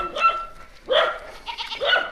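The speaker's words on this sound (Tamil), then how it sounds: "பைரவர் குலைச்சிட்டே இருக்கிறாரு" A dog near the Palamalai Aranganathaswamy Temple in the Western Ghats barks three times in quick succession, sharp nearby woofs against a quiet background.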